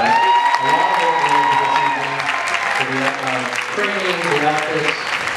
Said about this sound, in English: please give all of these couples a big round of applause